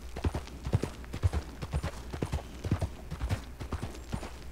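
Rhythmic clip-clop of horse hooves at a steady walking pace on snowy ground in Red Dead Redemption, close and clear, continuing throughout with no voices.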